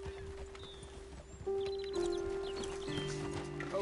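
Horse hooves clip-clop at a steady walking pace in the Red Dead Redemption 2 video game, faint and mixed with ambient game sounds and birdlike chirps, no talk.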